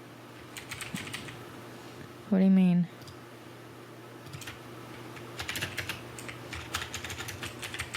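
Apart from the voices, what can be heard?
typing on a computer keyboard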